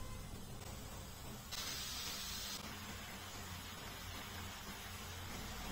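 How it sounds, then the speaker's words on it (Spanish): Yuca rings fry in hot oil with a steady, dense sizzle and hiss that holds at an even level throughout, with no talking. "ahora los vamos a llevar a freír en aceite caliente."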